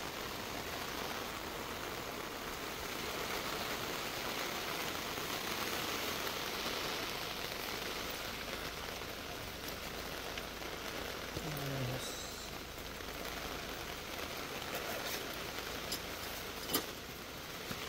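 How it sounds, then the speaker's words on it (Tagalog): Heavy rain from Tropical Storm Crising falls steadily on an overlanding campsite with a 4x4 setup, a dense, even wash of drumming drops throughout, with a few louder knocks and brief faint murmurs of voices in the background. "Lakas ng ulan."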